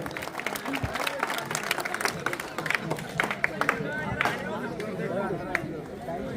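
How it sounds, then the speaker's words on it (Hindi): Crowd applause welcoming a Maulana at a political gathering in Dhule, scattered claps and chatter with voices talking over the clapping throughout. "हम जोरदार तालियों से मौलाना साहब का इस्तेकबाल करें।"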